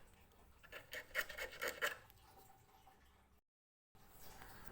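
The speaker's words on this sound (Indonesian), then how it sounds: "Untuk memperkuat atau mempertajamnya, Anda boleh menggunakan batu asahan atau amplas yang paling lembut atau yang paling halus ya." An eel fishing hook being sharpened on a whetstone or fine sandpaper gives repeated short rasping strokes close up, grows louder for a moment, then fades into faint scraping after a brief gap.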